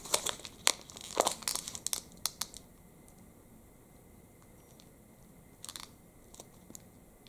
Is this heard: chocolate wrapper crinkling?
yes